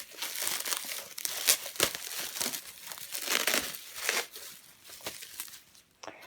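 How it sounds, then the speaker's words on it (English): Bubble wrap around a model Aer Lingus A330-300 airliner is pulled open and unwrapped, a close, steady run of crinkling and crackling plastic with sharper tearing bursts, no voices over it. "So I'm going to unbox the bubble wrap."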